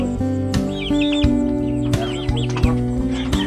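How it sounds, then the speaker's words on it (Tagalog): Chickens cluck close by on a farm, a busy overlapping chatter of short clucks and chirps with a few sharper calls over a steady low hum. "ito pala yung mga manok namin"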